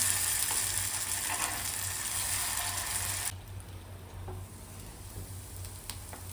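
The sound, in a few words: pohe kachori frying in oil, being turned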